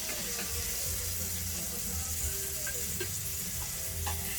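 Food shallow-frying in a thin layer of grease in a pan gives a steady, close sizzle with crackling pops throughout, heard alone without talk.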